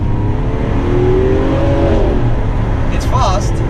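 A Lamborghini Aventador drives hard, its engine producing a loud, dense low roar from inside the cabin. The pitch rises and then drops briefly as the gearbox shifts, and a faint voice is heard underneath.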